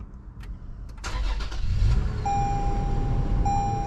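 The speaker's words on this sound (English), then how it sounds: "when you turn on the car, you have this like old school truck sound" A 2022 Toyota 4Runner Limited turns over with a short crank, then settles into a steady, close, rumbling idle with a faint electronic chime tone above it, and no voices.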